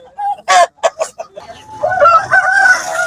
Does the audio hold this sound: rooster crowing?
yes